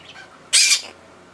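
A single harsh, loud squawk from an agitated parrot bursts out close by, lasting about half a second against a quiet room.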